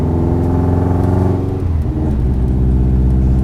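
All-wheel-drive Miata with a built Subaru engine revving close and loud, a steady high rev that drops and settles into a deeper hum partway through, no voices.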